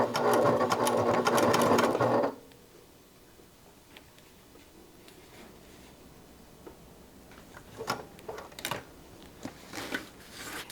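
A sewing machine runs a loud, fast burst of stitching along a top seam and then stops. Quieter ticks and clicks of backstitching and handling follow, close up.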